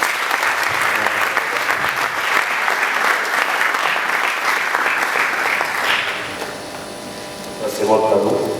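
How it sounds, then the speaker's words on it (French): An audience at a travel conference in Kinshasa bursts into strong, continuous applause that tapers off after several seconds, followed by quieter room sounds and a voice speaking. "Sous vos applaudissements, bien sûr."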